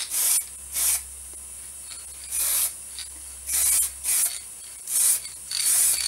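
Light coat of black spray paint going onto a vessel in short bursts, about seven crisp hissing puffs separated by quiet gaps, close and clear with no talking.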